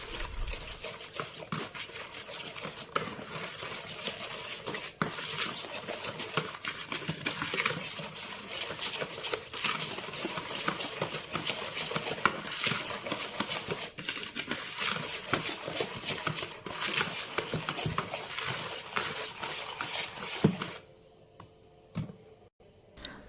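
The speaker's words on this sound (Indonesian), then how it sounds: "Kemudian ini bakalan kita aduk hingga tercampur dengan rata" Faint, steady stirring of a batter mixture with powdered sugar in a bowl for huat kue, a close run of soft scraping and tapping clicks that stops near the end, no talk.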